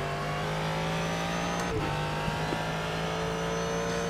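Ford GT3 race car engine held at full throttle at Daytona in iRacing, a loud steady high-revving drone throughout with a faint brief tire noise partway through.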